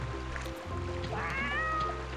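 A cartoon cat meows in the video game Petz Catz 2, one rising then falling meow heard over steady game background sounds and a faint trickling of water.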